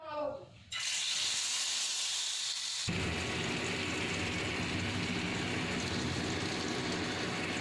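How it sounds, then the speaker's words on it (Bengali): Hilsa fish frying one piece at a time in a pan for a Jamai Sashthi festive meal, a loud, steady broadband sizzle that bursts in after a brief quiet start and swells fuller about three seconds in, continuing unbroken. "ইলিশ মাছটা ভাজা করে নেব এক এক করে"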